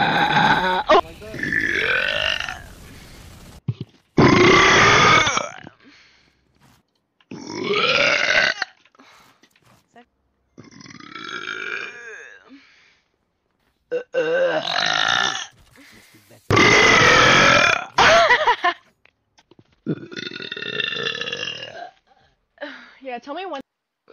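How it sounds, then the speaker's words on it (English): Loud, deep burps from a person, drawn out in a string of separate bursts with short gaps, some guttural and grunting, while people talk and react around them. "That's the only burp you get."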